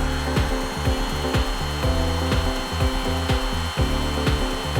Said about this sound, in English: Let's start with the drill just to cut that center hole.